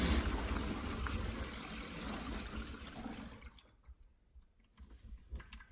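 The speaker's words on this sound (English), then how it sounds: "I filled up the sink with water, and now I'm going to let it drain out" Water from a filled sink rushes and gurgles steadily through the drain pipes and P-trap for a few seconds, then thins out into sparse drips and trickles as it drains away.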